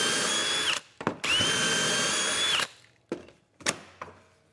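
A power drill drives bolts into a dinette bed frame inside a Ford Transit van, two long loud whirring runs followed by several short sharp bursts and taps, with no talk.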